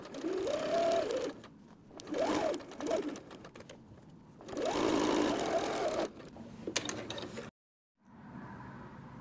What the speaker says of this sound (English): we can go ahead and sew the bottom seam as well